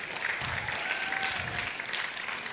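Conference audience applause continues after a talk, a dense, even patter of many hands clapping at moderate distance, with no voices standing out.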